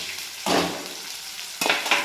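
Vegetables stir-fried in a pan for a spring onion bhaji, with two sharp bursts of sizzling as they are tossed into hot oil, separated by a quieter stretch.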